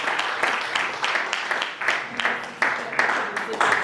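Applause from a banquet audience at a golf fundraiser event, a moderately loud patter of clapping hands that swells and eases in repeated waves throughout.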